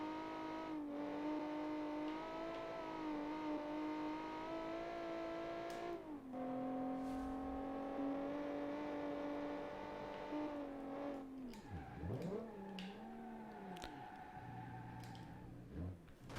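A 1967-style race car in BeamNG, its engine droning at steady revs, then dipping and wavering sharply as the car spins out, with tyre noise before the engine recovers.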